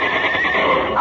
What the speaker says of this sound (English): Mr. Odell, these are the sweetest horses